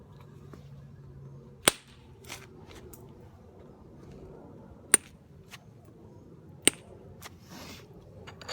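Percussion strikes on stone reduce a square edge: three sharp, isolated cracks ring out a few seconds apart, with softer taps between them over a quiet background.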